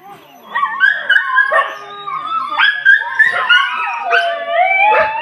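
Injured, rescued dogs at a shelter bark, yip and whine in overlapping bursts, several animals close by and loud throughout.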